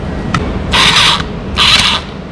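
A special power drill screwing wheels onto a traptor, heard as two bursts of a bright whirring rasp, each about half a second long, with a short click before them and a hushed room in between.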